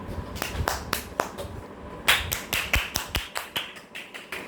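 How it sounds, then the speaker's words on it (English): A small group claps at a talk about nation and community, a loose series of about fourteen sharp claps that pause briefly and then pick up again, close and moderately loud. "Thanks for clapping, everybody."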